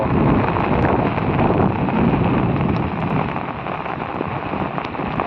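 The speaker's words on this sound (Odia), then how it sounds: "କେଡ଼ାର ପବନ।" Strong wind blowing during rain in a village, a loud steady roar of wind and rain noise buffeting the microphone, easing slightly toward the end.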